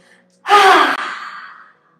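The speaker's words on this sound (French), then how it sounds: "Et expire la respiration du lion." A single forceful lion's breath yoga exhale with the tongue out, a loud breathy rush lasting about a second with a brief catch midway, standing alone in a quiet room during a hatha yoga session.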